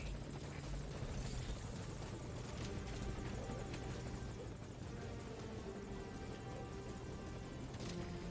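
Helicopter in the video game Metal Gear Solid V: Ground Zeroes, its rotor throbbing steadily and loud throughout with a dense, continuous engine drone and no talk.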